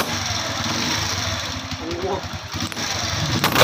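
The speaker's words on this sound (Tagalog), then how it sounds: "Skygo 125, may masama akong naririnig sa kanyang makina kapag maandar." A Skygo Hero 125 motorcycle engine with a faulty cylinder block and piston kit runs close by, idling with an uneven, knocking chug, while someone talks over it.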